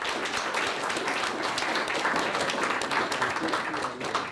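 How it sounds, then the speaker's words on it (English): An audience at a physics fellowship symposium applauds after a talk, a dense, steady patter of many hands clapping at moderate distance throughout. "let us give one final round of applause for all of the presentations"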